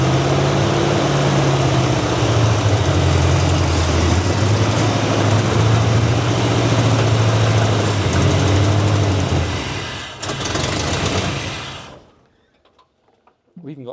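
A squarebody Chevrolet C10 truck engine idling after 21 years in storage, a steady, loud, low rumble with a throbbing pulse that runs for about twelve seconds before cutting off, with people talking over it.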